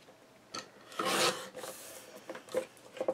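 Material being cut after measuring, a short close run of rough rasping and rubbing strokes, one louder stroke in the middle and softer scrapes after it, alone and quiet.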